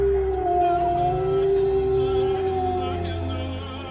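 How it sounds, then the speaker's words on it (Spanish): A long, wavering wolf howl rises and sustains for several seconds, then slowly fades. "el lobo aúlla"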